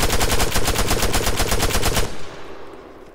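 Automatic rifle in Arma 3 fires a sustained full-auto burst of about twenty rapid, evenly spaced, loud shots for two seconds, then stops and the echo fades away.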